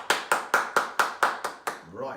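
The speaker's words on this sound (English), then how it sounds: "Give Giraffe a big clap." Children clapping in a classroom, about eight sharp, evenly spaced claps close by, then a brief murmur of voices.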